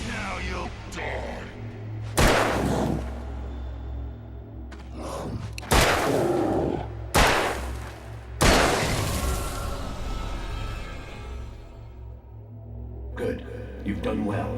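Gunfire in the video game Alan Wake: a few heavy, booming shots spaced irregularly over a low rumbling ambience, each blast ringing out with a long decaying tail.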